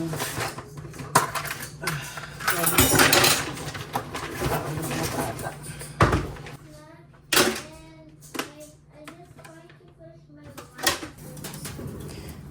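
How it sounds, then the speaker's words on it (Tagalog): Dishes get washed in a home kitchen in London, Ontario: pots clank and cutlery clinks in irregular bursts, with a few sharp knocks and running water, close and fairly loud, while voices speak at times in the background. "walang katapusang hugasan"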